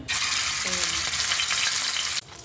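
Hot oil frying for beef keema, a loud, dense, continuous sizzle with some stirring close by that cuts off sharply near the end.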